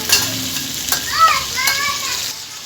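Food sautéing in a pan in a small home kitchen, a steady broadband sizzle running throughout, with a voice and brief background chatter heard over it.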